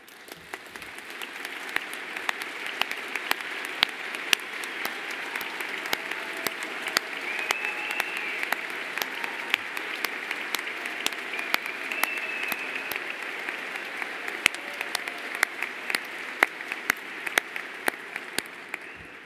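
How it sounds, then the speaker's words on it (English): Sustained applause from a gala audience at an LGBT elder advocacy awards dinner, many hands clapping in a steady dense patter that holds evenly for the full stretch without talk. "round of applause."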